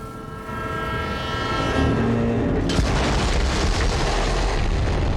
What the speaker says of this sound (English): The explosion echoed through the forest, and those Devil Riders didn't even get a chance to hit the brakes.